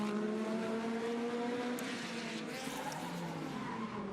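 A historic race car braking hard at the Monaco Historic Grand Prix, with a strained engine note and tyre squeal sweeping through, fairly distant under crowd and broadcast ambience.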